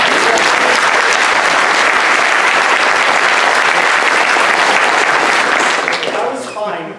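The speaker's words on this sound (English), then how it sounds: "it would help me greatly in proceeding if you would give me a thunderous round of applause right now." A thunderous round of applause from an audience at a public talk, dense and loud for about six seconds before thinning out at the end.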